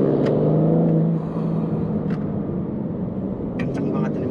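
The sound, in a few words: BMW M4 Competition accelerating with gear shifts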